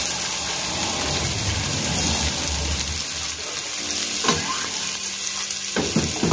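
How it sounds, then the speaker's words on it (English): Onion fries in hot oil with a constant close sizzle, broken by a few stirring clatters and utensil taps toward the end, no voices. "So we're allowing that to heat up, and then we will start drop some onion as usual."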